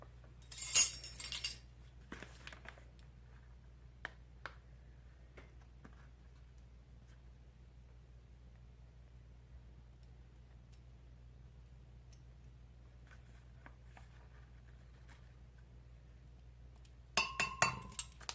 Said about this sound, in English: Now I'm using a teaspoon to scoop out